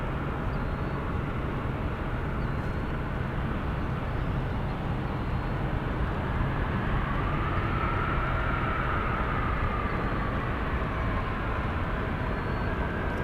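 A jet airliner approaching to land at San Francisco airport gives a steady, continuous low roar at moderate distance, with a faint rising whine midway through the approach.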